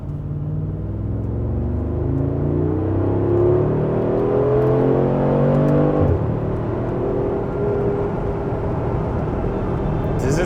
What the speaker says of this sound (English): Does it sound like a Lamborghini yet?